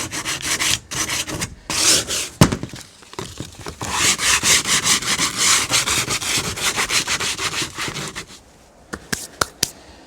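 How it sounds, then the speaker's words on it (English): Coarse sandpaper rubbed by hand along the edges of a wooden DIY motorcycle carrying case, a close, steady scratchy rasp in repeated strokes with brief pauses and a few sharp taps near the end. "I'm just going to finish it off with some coarse sandpaper, just to tidy the edges."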